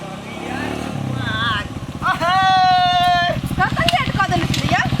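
A new motorbike's engine putters with a steady, rapid throb that rises as it gets going, while voices talk and sing loudly over it.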